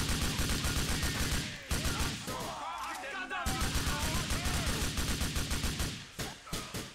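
Rapid automatic gunfire from Grand Theft Auto IV rattles in steady repeated bursts, briefly giving way to a short quieter pause, with some voices underneath.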